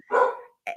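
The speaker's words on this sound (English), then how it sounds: "I apologize for my dog barking." A pet dog barks indoors at home with no voices. One loud, close bark is followed by a short gap and then the start of a second bark.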